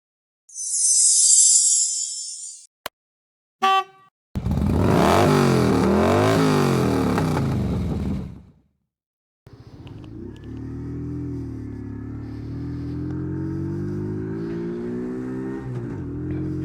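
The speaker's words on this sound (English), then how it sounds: "today we're going to be driving the Fosti F50 50cc" A Yamasaki Fosti F50 50cc geared moped engine gives a short loud revving burst, pauses, then settles into a steady buzzing run that holds to the end.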